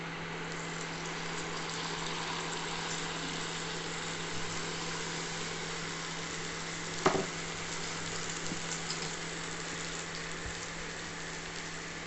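Bread toasting in a pan with milk, a steady, quiet, even sizzle close by with one brief clink partway through.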